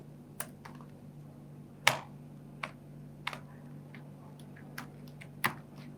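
Sparse, light clicking keystrokes on a computer keyboard as a Docker command is typed, about ten quiet taps spread irregularly over several seconds against a low steady hum, with no voice.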